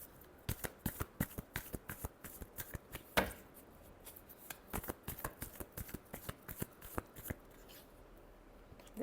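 Tarot cards are shuffled by hand in a run of crisp riffling and snapping strokes, near and fairly loud, in an uneven rhythm with short pauses and no talk.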